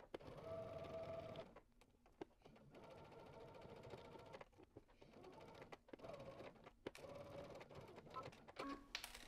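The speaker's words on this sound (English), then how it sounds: "let's head to the sewing machine, and we're going to stitch in the ditch." A sewing machine runs stitch-in-the-ditch seams along a garment placket in bursts, stopping briefly and restarting, its close mechanical whir steady during each run.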